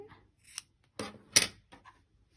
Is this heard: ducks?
no